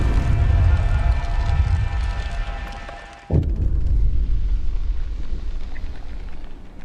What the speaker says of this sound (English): Sound of explosion comes from the generator, and the din of terrified voices.